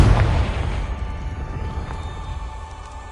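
Confringo fire spell exploding in Hogwarts Legacy, one deep booming blast at the very start that rumbles and fades away over a few seconds.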